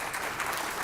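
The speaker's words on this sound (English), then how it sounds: "please give them another round of applause" Conference audience applauding on stage presentation day, a dense, even wash of clapping from many hands for a brief moment.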